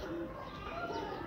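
Kasuri pigeons cooing, soft low throaty coos from nearby birds over a faint steady background, brief and quiet.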